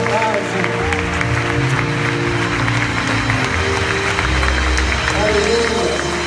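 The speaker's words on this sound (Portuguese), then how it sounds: "Aplauda com verdade" A church congregation applauds during a worship service, a dense wash of clapping blended with crowd noise and sustained music or voices underneath.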